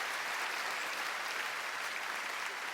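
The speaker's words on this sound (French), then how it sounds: "Encore une bonne main d'applaudissements pour Fabrice Eboué." A theatre audience at a comedy gala applauds a comedian, producing dense, sustained clapping at an even level throughout with no voices standing out.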